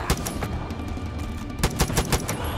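Sniper fire in Far Cry 5 gameplay, with rapid overlapping gunshot cracks over a dense, loud game soundscape, clustered near the end.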